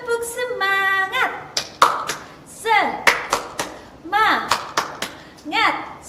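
Children clap in rhythmic patterns during an online kids' church service, sharp claps and taps alternating with sung and chanted call-and-response lines, the voices dominating between bursts of clapping.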